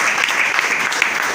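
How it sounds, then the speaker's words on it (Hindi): Audience applause fills a short stretch, a dense, steady patter of many hands clapping at close range without pauses. "फिर राजेश सर प्रदर्शन के लिए फिर से एक बार जोरदार ताली।"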